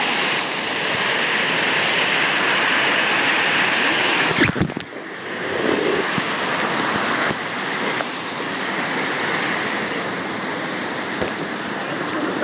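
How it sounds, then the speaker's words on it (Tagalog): Waterfall beside a stream on a hiking trail, a loud steady rush of falling water that fills the whole scene, with a brief thump midway and no talking. "Sa gilid ng falls."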